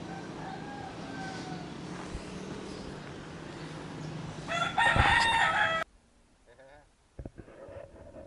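A rooster crows loudly at a backyard hen coop, its call cutting in sharply over a steady background hum and people talking, then stopping abruptly before a few quieter clucks and rustles.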